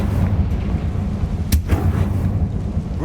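Confringo blasting spell in Hogwarts Legacy, a deep rumbling explosive boom with a sharp crack midway over a continuous low roar.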